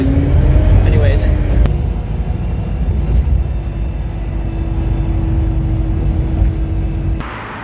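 Bus ride on the Isle of Sheppey heading back toward Sheerness: a steady, loud low rumble of the moving bus throughout, with a sharp air-brake hiss near the start and a few clunks and rattles along the way.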